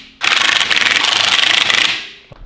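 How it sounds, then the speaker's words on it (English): Tyres rubbing against the wheel guards of a car fitted with a Harrop Truetrac diff, a loud continuous scraping rub with a fast pulsing texture that runs steadily for about two seconds, then cuts off abruptly. "Everyone be silent so we can hear the rubbing of the guards."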